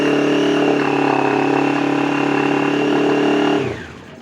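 An old Honda motorcycle engine fires up and runs loud and steady at high revs, its tone holding for a few seconds before cutting off sharply and fading.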